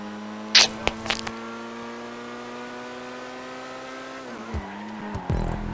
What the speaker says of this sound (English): Ooh, that drift